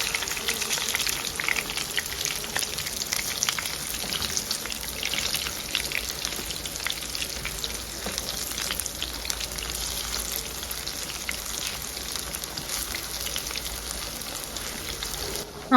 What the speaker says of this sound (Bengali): এভাবে 2-3 মিনিট ভেজে নেব।